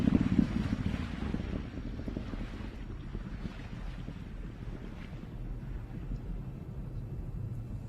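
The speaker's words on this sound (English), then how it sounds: "The first stage continues to fire for 2 minutes, 35 seconds." Steady low roar from the first-stage engines of a SpaceX Falcon 9 on a NASA crew launch, heard distant and muffled, mixed with gusting wind noise across the microphone, with no talking.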